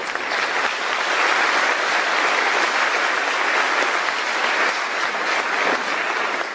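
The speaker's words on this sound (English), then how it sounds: "Let's all give them a round of applause, please." Graduation audience at John Jay High School's 2023 ceremony giving a loud, dense round of applause that holds steady throughout, a continuous roar of many hands with no speech.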